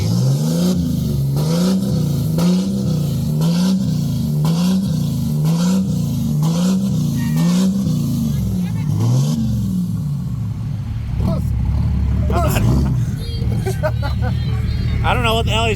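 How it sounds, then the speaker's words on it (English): A truck doing a burnout in the grass at a rowdy truck meet, its engine revving loud and close in a steady run of rhythmic surges before settling into a rough rumble, with crowd voices in the background. "He's doing a fucking burnout in the grass."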